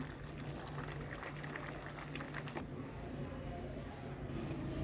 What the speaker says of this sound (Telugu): నీళ్ళు వంపేస్తాను ఇప్పుడు